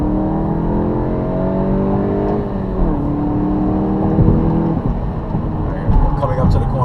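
A 2017 VW GTI MK7 with a limited-slip differential accelerates into a corner. The engine note is steady and loud from inside the car, shifting in pitch as the road and tire noise swell, and speech is heard throughout.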